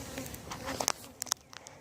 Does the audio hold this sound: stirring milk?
no